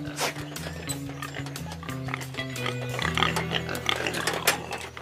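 Several farm pigs oink and grunt in quick, overlapping bursts at close range, a busy stream of snorts with no clear speech.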